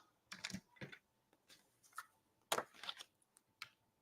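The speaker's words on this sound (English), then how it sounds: "I'm just basically cutting the corner off." Short, crisp snips of scissors cutting the corner off stamped paper, a handful of separate close cuts with brief pauses between them and quiet rustling.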